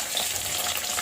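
Koi fish frying in a pan, a close, bright, continuous oil sizzle crackling evenly for a brief moment with no speech.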